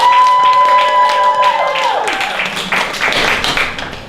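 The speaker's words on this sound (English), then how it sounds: "you are going to vote by round of applause for your favorite contestant to be the treasure hunter" An audience at the San Francisco Improv Festival applauds to vote for an improv contestant; a sustained musical tone fades out and gives way to a rising wash of clapping that fills the rest of the moment.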